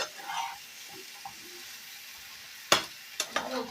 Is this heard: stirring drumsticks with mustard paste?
yes